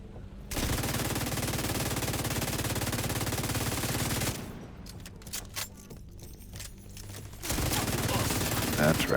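Rapid video-game gunfire, a sustained burst of automatic fire followed by scattered single shots and then another loud burst.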